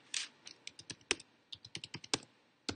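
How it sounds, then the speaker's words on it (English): Typing on a computer keyboard during a live soap-cake-making stream, with quiet, irregular clicks in quick bursts and short pauses, close and alone. "Sorry for tap typing."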